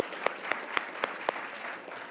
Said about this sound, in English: and principals a big round of applause.